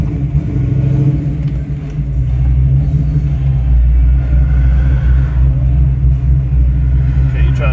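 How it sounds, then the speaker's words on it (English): Passing cars rumble by on a road beside a Fox Body Mustang, a steady loud low engine and tyre drone that swells midway, with a person speaking over the traffic noise. "Just wait for these cars to get by."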